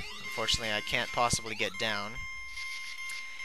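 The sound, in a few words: beeping time limit warning in Spelunker video game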